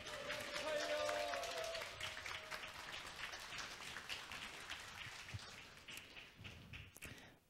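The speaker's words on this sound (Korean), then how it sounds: "큰 박수 함성 부탁드리겠습니다" A crowd at a cake-cutting celebration for successful exam candidates claps and cheers, a broad, fairly faint wash of applause with a brief tonal voice-like line early on, easing gradually toward the end.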